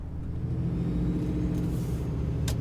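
A 2008 Dodge Dually pickup with a Cummins diesel engine rolls along on Dick Cepek Extreme Country 285/70-17 tires, giving a steady low rumble with a constant hum and a brief higher hiss near the end.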